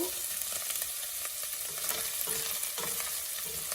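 Dried shrimp frying in a pan for a curry, stirred with a utensil; a steady sizzle with a few scraping stirs, close and fairly quiet, no talking.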